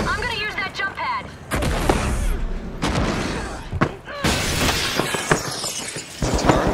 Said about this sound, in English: It's a turret.